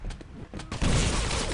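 Shotgun fire in the arena shooter Quake Live, a couple of quick sharp reports followed by a dense loud burst of blast and noise, close and busy.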